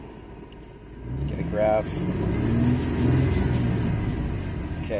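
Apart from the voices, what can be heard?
1999 Ford Mustang V6 engine idling and revving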